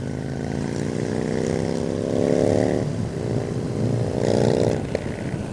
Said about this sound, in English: Another bike.